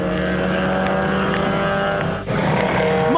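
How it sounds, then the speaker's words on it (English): A Porsche 356A and an Alfa Romeo racing wheel to wheel in a historic car race at Phakisa, engines droning loud and close with layered tones, a brief dip as one pulls past before the roar resumes. "Ferdy van Niekerk Sr. in his Porsche 356A goes wheel to wheel with the Alpha of Larry Davies"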